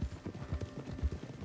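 Horse hooves clip-clopping at a steady walking rhythm in the Red Dead Redemption 2 video game, close and clear, with soft background ambience and no talking.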